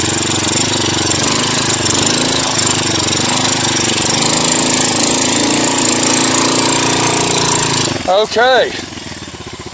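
Motorcycle engine running loud and steady on a rough rocky road near an abandoned uranium mine, a rattling drone that drops near the end as a person speaks.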